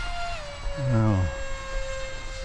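An electric FF-35V2 RC plane with a 6-inch prop runs its motor at full throttle, giving a steady, sustained high-pitched whine with a brief voiced sound partway through.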